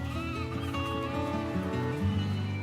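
Sheep bleat repeatedly over a bright, tuneful soundtrack in a sheep-herding video game, the animal calls blending into the steady music.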